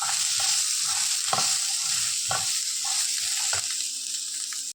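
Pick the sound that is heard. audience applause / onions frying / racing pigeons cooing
onions frying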